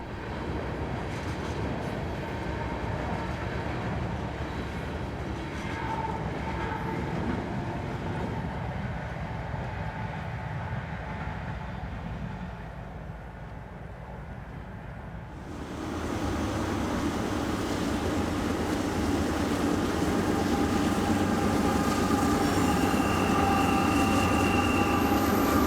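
A CSX freight train climbs steadily out of a valley on the former Clinchfield line near Kingsport in winter, a continuous rumbling roll of railcars that dips briefly before swelling back louder and closer.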